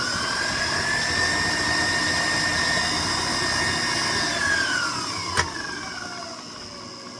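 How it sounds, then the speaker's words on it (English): An electric mixer whirs steadily as it blends an egg into creamed sugar, a constant motor whine that shifts pitch slightly before easing off near the end. "and blend it in real good"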